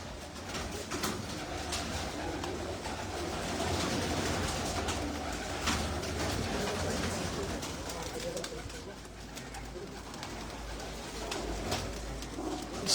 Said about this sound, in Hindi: ये सब तैयार और उड़ी हुई और लगी हुई कबूतरी हैं जो अंधेरे में लगी हैं सारी।